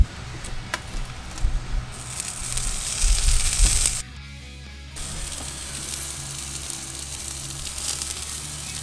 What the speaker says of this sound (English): Now it's time to put our sunflower on the grill and cook it.